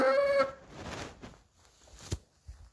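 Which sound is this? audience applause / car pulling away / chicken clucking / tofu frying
chicken clucking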